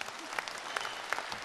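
Applause from an audience after a short stage performance, a fairly faint, dense patter of clapping with a few sharper claps standing out, steady across the moment.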